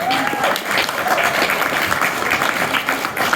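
Supporters at a campaign launch give a round of applause, a dense, continuous crowd clapping that fills the moment with no talk over it.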